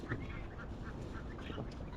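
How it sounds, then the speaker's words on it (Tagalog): A dense outdoor chorus of pigeons and other birds, overlapping calls and chatter, steady throughout with a broad background wash. "Oh, daming mga ibon."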